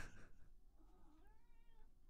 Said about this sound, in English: Oh, that is a cat.